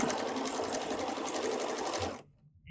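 A sewing machine stitches quilt pieces together in a steady, fast whirring run, close and continuous, then it stops abruptly near the end.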